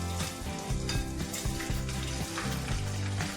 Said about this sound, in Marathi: इथे आपण चकल्या तळून घेऊ.